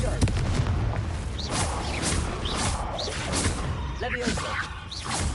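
Confringo blasting spell cast in the Hogwarts Legacy video game, a run of booming blasts and whooshing bursts over a dense rumbling bed, with a voice talking throughout.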